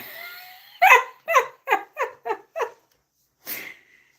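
A male dog barks six times in quick, evenly spaced succession, close and fairly loud, with a softer whining sound before and a final breathy bark after a short pause.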